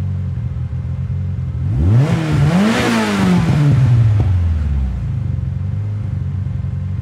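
A Lancer Evolution 8 MR GSR engine in a racing video game revs up from idle, climbing and dropping through a couple of loud bursts before settling back to a steady idle.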